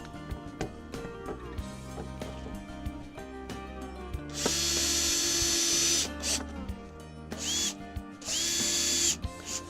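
Power drill driving screws into a wooden board while assembling a wooden raised planter, with two or three sustained whirring bursts up close, broken by brief pauses and handling knocks.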